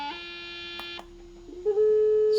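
A buzzy electronic square-wave tone from a breadboard synthesizer kit, holding a steady pitch, briefly dipping, then stepping up and growing louder near the end.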